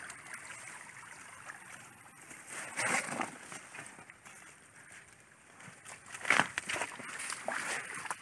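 Fast-moving water rushing through a newly finished diversion canal, a steady broadband wash with surges near three and six seconds, heard close and continuous without talk.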